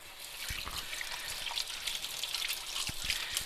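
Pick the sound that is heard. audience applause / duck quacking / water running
water running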